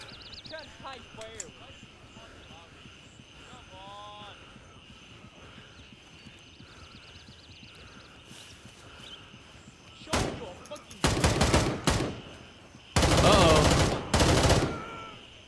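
Bursts of suppressing gunfire crack out in the tactical shooter Gray Zone Warfare, loud sustained volleys in the latter half following a quieter stretch with a few faint game sounds.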